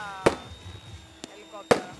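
Fireworks at a nighttime helicopter flying event, two sharp loud bangs with a fainter pop between them, crackling against a quiet background with a faint steady whine.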